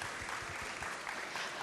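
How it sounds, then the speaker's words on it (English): Audience at an esports industry panel in London claps for the panelists, a dense, sustained burst of many hands applauding together in a hall, steady and moderately loud with no voices over it. "please give them a round of applause"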